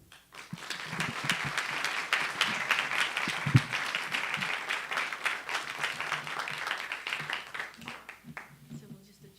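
An audience at a Tripod Arts event in Tacoma claps steadily in welcome for artist David Hytone, a sustained round of applause that swells and then fades near the end.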